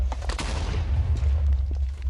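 A rapid burst of booming, crackling explosions in the game Minecraft (Project Ozone 2 modpack), dense and loud, going off one after another without pause.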